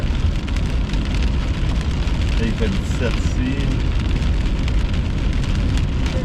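Heavy rain drumming steadily on surfaces during a summer storm chase, a loud continuous wash with someone speaking briefly over it.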